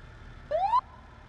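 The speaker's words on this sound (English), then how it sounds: "Did he just blip a siren" A police car's siren gives one short rising blip, a single brief upward-sweeping tone that stands out clearly over low background rumble.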